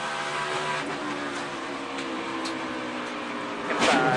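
A NASCAR Sprint Cup car with a broken or failed part, riding low on its splitter, produces a steady broadband scraping roar under engine noise, with a louder grinding burst near the end.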